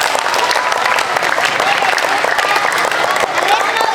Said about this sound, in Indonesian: Tepuk tangan dong ya buat Ustadz